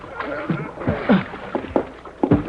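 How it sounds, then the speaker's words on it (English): Oars dip and splash rhythmically through water as a rowboat is rowed, with muffled voices underneath. "I've been rowing around trying to pick up survivors."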